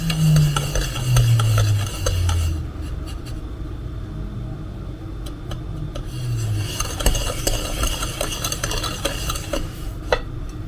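Semolina and flour being mixed by hand with a Danish dough whisk, giving a steady scraping, swishing stir with faint clinks, close and continuous throughout, with no voices.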